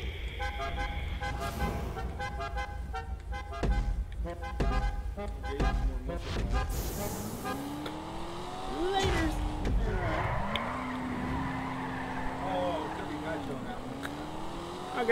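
An Inverto Coquette Black sports car in a GTA 5 race, engine revving and shifting with rising, falling pitch sweeps, mixed with game music, horn toots and tire noise, fairly loud and continuous.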